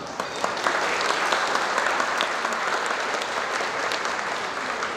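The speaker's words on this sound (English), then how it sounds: "Please give a warm round of applause for our VIPs, elected officials, and dignitaries who kindly joined us tonight." Warm, sustained applause from a large audience at a community center's 45th anniversary gala, a dense even roar of clapping lasting throughout.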